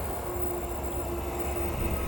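Transperth B-series electric train 4092 running from Leederville toward Elizabeth Quay, a steady close rolling rumble with a faint sustained motor whine, continuous and unbroken with no talk.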